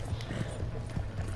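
Hoofbeats of a galloping horse in Red Dead Redemption 2, a quick soft rhythmic thudding over low rumbling background, moderately faint and brief.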